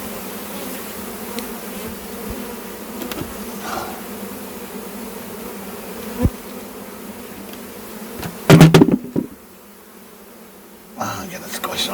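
Honeybees swarm around an open hive during an inspection, making a dense continuous drone with loud close thumps and handling clatter near the end before the buzzing returns.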